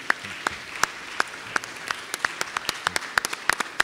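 Sparse, scattered claps from a small audience at a talk, individual sharp hand claps spaced irregularly across the clip rather than a dense ovation, fairly close and moderately loud.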